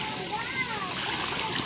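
Water splashes and sloshes as a child plays in a pool at Barangay Patag, Paranas, Samar, steady soft splatter close by, with a voice and other talk mixed in.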